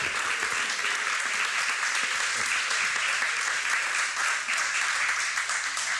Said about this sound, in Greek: Χειροκρότημα για την Νικοκίδου.